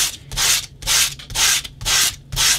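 Sandpaper rubbed back and forth over a handmade baby shoe, five steady, even scratchy strokes in a regular rhythm, close and clear with short pauses between and no talking.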